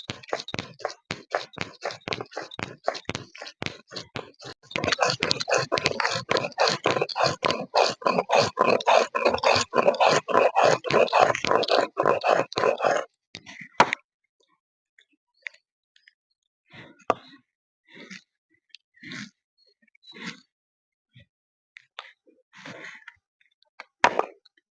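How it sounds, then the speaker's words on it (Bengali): Whole cumin and ginger being ground on a stone shil, a dense run of rapid rhythmic grinding knocks and scrapes that grows louder, then breaks into sparse, irregular taps and rubs. "গোটা জিরে আর আদাটা ভালো করে বেটে নিতে হবে।"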